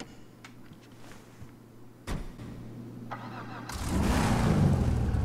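A custom GT500 Mustang engine in a video game cranks and catches with a sharp burst, idles steadily, then revs louder into a rough, rumbling roar with a slight exhaust vibration.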